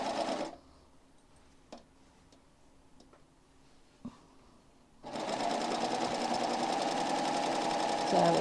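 A serger sewing a short-length wave stitch for a Valentine's project runs in a steady, loud, fast whir after a quiet start with a few clicks.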